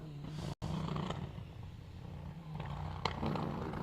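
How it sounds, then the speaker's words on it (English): A Mitsubishi Evo rally car on the Mull Rally pulls round a town square with a rough, uneven engine note and a faint misfire, one short cut-out breaking the steady roar. "Sounds a little bit sick, that Evo."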